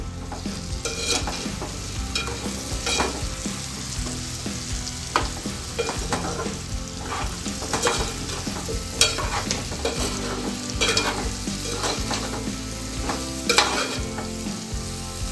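Brinjal and chana dal curry gets stirred in a hot pan, a dense continuous sizzle broken by repeated scraping and clattering strokes of a spoon, close and loud with no voices.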